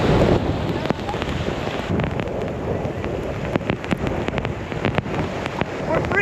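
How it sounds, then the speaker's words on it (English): Torrential rain pours down on a Florida beach during surf fishing, a loud, dense hiss with buffeting wind noise on the microphone and scattered sharp drops throughout. "We are experiencing a torrential rain though, but the fishing don't stop."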